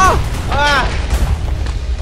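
A loud Minecraft explosion booms as a deep, rumbling low roar, with excited voices talking over it throughout.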